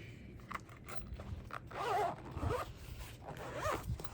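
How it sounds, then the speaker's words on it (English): A zipper on a case for watercolor pencils is pulled open in a few short, close rasping strokes, with light handling clicks and rustles between pulls. "where's that zipper?"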